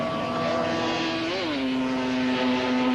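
Yamaha RD350LC two-stroke racing motorcycles scream around Donington Park in a 1983 Pro-Am race, a continuous loud, buzzing engine whine that dips and climbs in pitch as a bike changes gear, with no talk.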